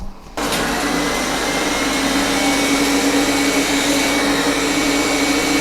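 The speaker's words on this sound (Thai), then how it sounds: "เดี๋ยวลองฟังเสียงนะคะ เวลาที่มันดูดพื้นข้างล่าง กับเวลาที่มันขึ้นพรมเนี่ยจะเป็นคนละเสียงกันเลยค่ะ" A Roborock Q7+ robot vacuum starts up abruptly and runs with a loud, steady whirring hum and airy suction noise, close by and uninterrupted, cleaning floor and carpet.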